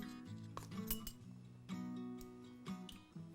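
Dry tea biscuit ingredients, flour with baking powder, being sifted and mixed in a bowl, with repeated light clinks and scrapes of a utensil against the bowl over a low steady hum.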